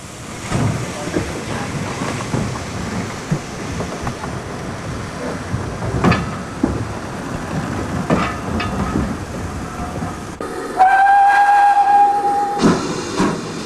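A K4 class steam locomotive, the Great Marquis, built in 1938 for the West Highland Line, runs along a heritage railway with steady chuffing and hiss and a sharp whistle blast near the end.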